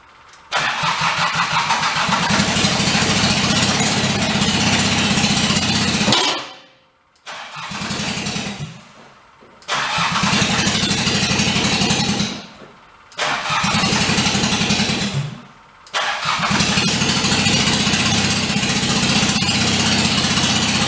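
A junk skid steer repowered with a mismatched engine cranks and fires up repeatedly, with loud sustained engine roar broken by several abrupt cutoffs and restarts, running close and steady between stalls.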